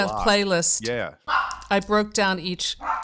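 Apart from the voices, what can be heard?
dog barking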